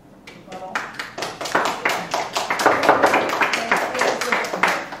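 An audience at a New Jersey senate campaign debate claps in a spreading round, scattered taps building into fuller, steady applause that fades slightly near the end.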